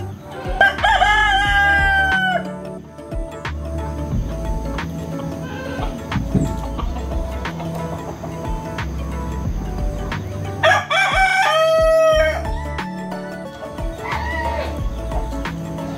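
A farm rooster crows twice, loud and close, with a long gap between the calls, over a low rumble of background farm noise.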